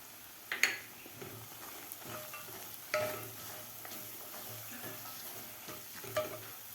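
Sesame seeds and peanuts sizzle in a pan of sautéed masala paste for mixed-vegetable khichdi, a soft steady frying hiss broken by a few sharp pops and spoon-stirring clinks.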